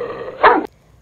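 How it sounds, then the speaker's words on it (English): A single short, sharp dog bark, loud and close, preceded by a faint breathy growl and followed by quiet. "The dog barks to communicate."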